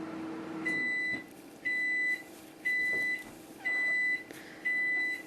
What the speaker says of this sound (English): And just as you start filming, the microwave beeps.